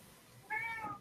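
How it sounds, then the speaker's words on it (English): A house cat lets out a single short, clear meow over a low, quiet indoor background. "I hear a cat."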